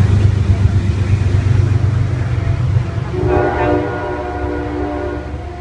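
A rumbling train rolls past close by, then a long, steady horn blast sounds over the clatter before it fades.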